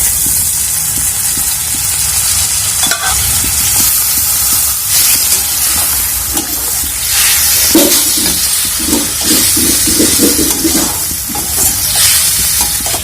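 Boiled jackfruit seeds hit a pan of frying masala spices and sizzle loudly, a continuous close hiss with bursts of crackle and occasional stirring scrapes.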